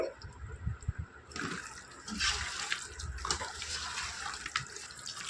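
Lemon water splashing and pouring close by into a chicken biryani marinade, a steady watery rush that grows louder partway through, with no talking.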